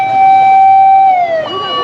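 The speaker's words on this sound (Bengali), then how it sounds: "যাতে অ্যাম্বুলেন্সটা পার হতে পারে সেই জন্য মানে তারা সাহায্য সহযোগিতাগুলো করে যাচ্ছেন" An ambulance siren on a city road with traffic islands sounds as one loud, steady tone that drops in pitch near the end as the vehicle passes close by.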